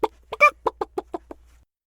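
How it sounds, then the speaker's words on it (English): A chicken clucks on an FM radio broadcast from Brookings, Oregon, producing about eight sharp, evenly spaced clucks, close and clear against silence, before falling quiet. "Our regularly scheduled broadcast has been replaced with a chicken."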